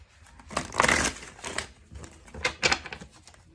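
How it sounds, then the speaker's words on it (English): Tarot cards being shuffled by hand, a few short papery riffles and soft slaps close to the microphone, quiet and alone, in two brief bursts. "Let's shuffle these up a few times."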